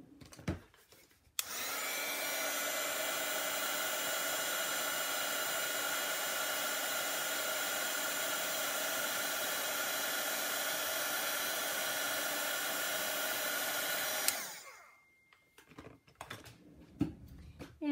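A heat tool blows hot air over a metallic project box. It makes a steady, even whir that starts abruptly, runs for about thirteen seconds and then cuts off, with faint room noise before and after.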